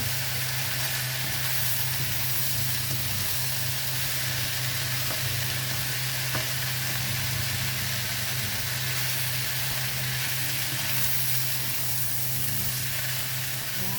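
Bihon noodles with mushroom and prawn sizzling in a hot pan while being stirred, a steady close frying hiss with occasional soft scrapes and clicks throughout, no voices.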